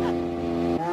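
A cartoon supercar built from a vacuum cleaner gives a steady, droning engine hum with strong tonal harmonics, then shifts pitch abruptly near the end as if revving up, all in under a second.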